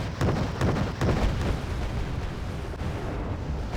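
Artillery strike explosions in the Wargame: Red Dragon strategy game, a quick cluster of loud booming blasts followed by rumbling, crackling aftermath fading over a few seconds.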